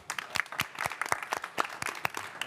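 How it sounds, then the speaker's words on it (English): Sparse, uneven clapping from a conference session audience at COP29 on regenerative agriculture, a few distinct hand claps spread over a short stretch rather than a full ovation, fairly faint and without talk. "last round of applause for the panelists"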